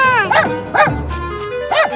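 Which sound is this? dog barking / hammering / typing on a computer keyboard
dog barking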